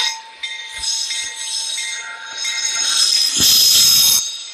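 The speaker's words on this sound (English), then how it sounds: "Train stopping on Amtrak" An Amtrak train slows to a stop with loud, close rail noise, high squealing wheels and metallic ringing that builds toward the end.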